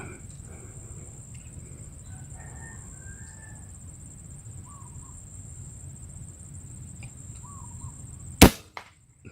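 A single sharp airgun shot cracks out near the end, aimed at pest birds in an outdoor mango grove, after a stretch of faint crow caws and a steady insect drone.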